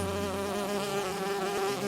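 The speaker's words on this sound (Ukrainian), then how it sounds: "сердито загудів бджолиний рій" A swarm of bees buzzes angrily in a steady, dense, loud drone that holds without a break, with no voices over it.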